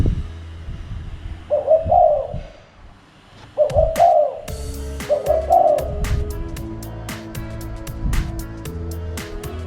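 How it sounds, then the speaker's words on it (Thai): Three bursts of soft, low cooing from a large spotted dove at a moderate distance, followed by scattered faint bird chirps against a quiet outdoor background at a home. "ได้ยินเสียงนกที่บ้านนะครับ"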